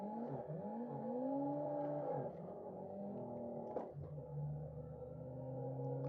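Nissan S13 in a racing sim on the Tail of the Dragon, engine droning steadily with rising and falling harmonic sweeps as revs change through gears, alone without talk.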